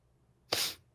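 A single sharp sneeze, close and fairly loud, bursting out suddenly after quiet room tone and fading within half a second.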